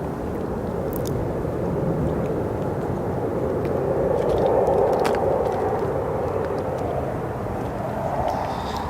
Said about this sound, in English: United Airlines, Boeing 737-724, arriving from Cleveland, departed just 48 minutes ago.